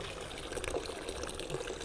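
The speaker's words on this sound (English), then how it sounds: "We turn the water on, and what do we get?" Water runs steadily from a tap, a continuous splashing rush at moderate volume with no talking over it.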